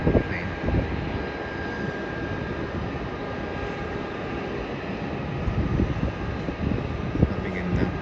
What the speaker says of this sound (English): and that's an Airbus A321. So this is a freight passenger service coming in from Brisbane.